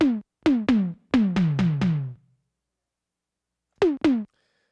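Dry LinnDrum kit hits with no delay or reverb: clipped, knocking drum strikes in a short burst of several evenly spaced beats, a long silence, then two more hits, each cut off cleanly.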